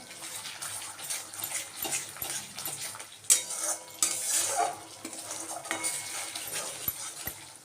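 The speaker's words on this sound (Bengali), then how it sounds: "এইভাবে অনবরত নাড়তে হবে তাহলে তলাটা কিন্তু একদম লেগেও যাবে না" A spatula stirs spiced gravy in a pan for chhana kofta curry, making repeated soft scrapes and metallic clinks over a low bubbling sizzle, close and moderately quiet.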